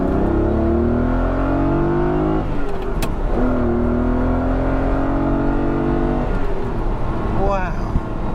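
A Ferrari 512BB engine revs and drones steadily, pitch climbing and dropping through gear changes, loud and close with a brief mechanical whir near the end.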